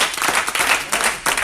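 A church congregation claps for Christ during a service, a brief burst of dense, rhythmic applause that sounds close and fairly loud.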